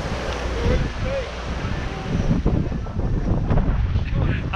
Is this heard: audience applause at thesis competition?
no